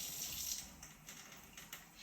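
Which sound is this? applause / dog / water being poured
water being poured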